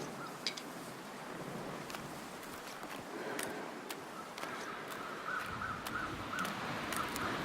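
Birds call in the wilderness of the survival video game The Long Dark: a few faint, distant caws repeat toward the end over a soft, steady bed of wind and ambient rustle.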